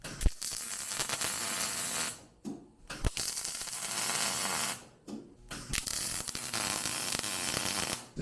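A metal strip is welded onto the bottom of a homemade snow-track ski, producing close, harsh crackling bursts of a few seconds each, separated by brief pauses and ending in a short crackle.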